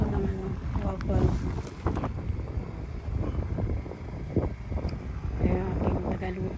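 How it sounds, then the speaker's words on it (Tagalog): Cold wind blows across an outdoor cooking spot where waffles are being made, rumbling steadily against the microphone in low gusts for several seconds. "Mahangin ngayon dito, malamig ang hangin."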